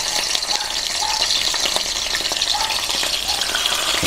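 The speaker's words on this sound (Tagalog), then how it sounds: "Yan, prito lang po natin siya." Fish fries in hot oil in a home kitchen, giving a dense, steady sizzle with faint crackles that carries on without pause, close and fairly loud, with no talking.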